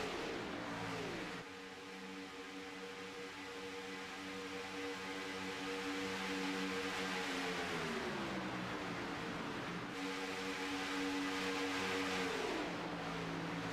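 Race cars roar around Talladega Superspeedway, a loud continuous engine drone that sweeps downward as the pack passes, then rises and falls again, heard at a distance with no voices over it.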